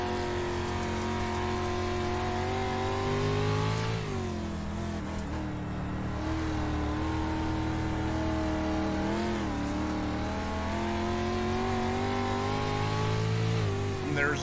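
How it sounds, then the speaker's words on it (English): A street stock race car engine in the iRacing sim at Lanier drones steadily with sustained harmonic tones, its pitch dipping and rising as the throttle eases through corners and picks back up, continuous and close throughout. "So you can hear Brandon barely on the throttle through the corners."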